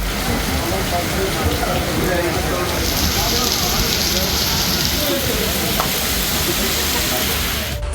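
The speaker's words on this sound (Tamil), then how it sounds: "உதகை மற்றும் சுற்றுவட்டார பகுதிகளில் மாலை நேரத்தில் திடீரென இடியுடன் கூடிய கனமழை பெய்தது." Heavy evening rain in Udhagamandalam falls in a dense, steady, loud hiss that continues without a break from start to finish.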